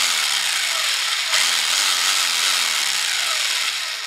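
A rotary hammer drill runs close by indoors, giving a continuous loud grinding, rasping noise with shifting tonal whines as the load changes, and no voices over it.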